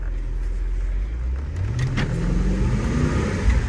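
A VW Phaeton with a 4.2L V8 pulls away on the road after intake runner actuator arm work, the engine note rising steadily as it accelerates, heard from inside the car with no talking.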